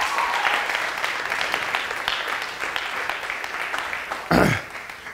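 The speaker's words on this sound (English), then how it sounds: "Somebody give God a great hand clap of praise." A church congregation claps in praise, a sustained dense round of applause from many hands that continues steadily, with a brief louder thump near the end.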